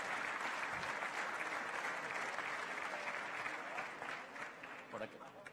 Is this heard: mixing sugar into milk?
no